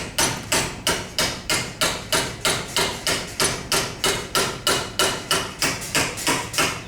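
A hammer strikes sheet metal on a 1957 VW Type 2 23-window bus in fast, even metallic blows, roughly three per second, loud and sharp with no voices.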